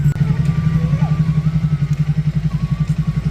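A motorcycle pulls up at home and chugs close by. Its engine beats in a fast, even pulse at a steady idle throughout.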